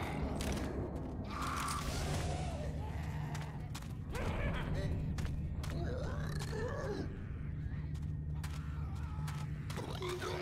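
A weapon reloading in the Left 4 Dead 2 video game makes mechanical clicks, creaks and ratcheting sounds over a dense game background, with faint murmuring voices.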